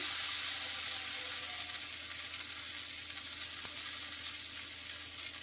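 Cooked Maggi noodles go into a pan of sizzling garlic, giving a steady, close hiss of frying that fades slightly over time, with faint stirring scrapes and no talking.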